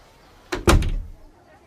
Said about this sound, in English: And the woman closed the door.